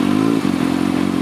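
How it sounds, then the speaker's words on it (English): A budget motorcycle's engine idling too high, close and loud, a steady throbbing drone that dips briefly partway through. "something that's been annoying me the whole trip is the idle is really high on this"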